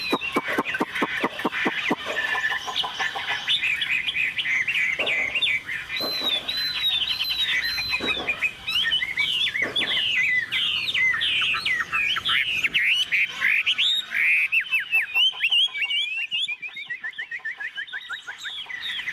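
A large hwamei songbird kept for sale sings continuously and loudly at close range, with rapid, varied whistles, trills and chirps in long, fluid phrases.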